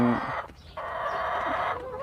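Egg-laying hens forage in a small flock, giving soft clucks and murmuring calls that run steadily for a couple of seconds, close by with no talk.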